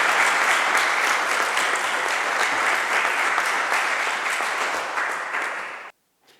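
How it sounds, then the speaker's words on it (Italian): Sustained audience applause after a conference talk on resistant grape varieties, thick even clapping that slowly fades and cuts off near the end. "Un applauso davvero per questo documentatissimo intervento."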